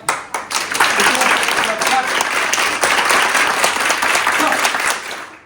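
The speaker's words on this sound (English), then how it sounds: "Clap." A class of early childhood care educators claps together, opening with a few separate claps and then swelling into a full, steady round of applause before it stops.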